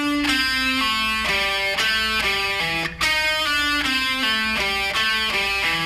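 A slow descending run on a distorted electric guitar, in the style of early-'90s rock playing. Sustained, singing notes step downward one after another, loud and close, with no voice over them.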